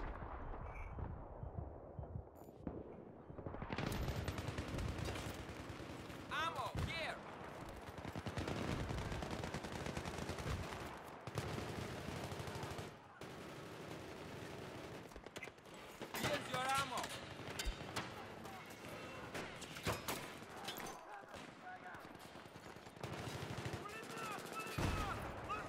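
Gunfire in the multiplayer shooter Battlefield 3 on the Noshahr Canals map: dense machine-gun bursts and scattered shots, loud and sustained with brief gaps, with someone talking intermittently over the shooting.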